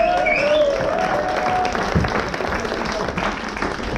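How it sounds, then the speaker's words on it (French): Audience applause at a live comedy show, a dense, steady wash of clapping from a crowd, with a voice audible over it near the start. "Allez, on applaudit Stéphano,"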